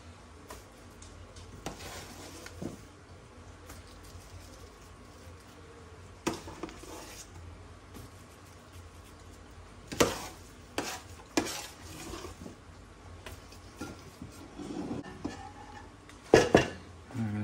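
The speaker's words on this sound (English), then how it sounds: "Now I'm going to take a spoon and I'm going to spoon" Pastie pie filling spooned into a baking dish, with soft scraping and stirring clinks of spoon against the dish. Sharper knocks come at intervals, and a cluster of louder clatters lands near the end, close and moderately quiet.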